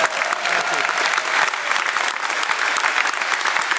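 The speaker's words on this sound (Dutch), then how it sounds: "Geef je nog een waanzinnig applaus voor." An audience applauds loudly and continuously at a live singing show, with dense steady clapping throughout and some voices mixed in.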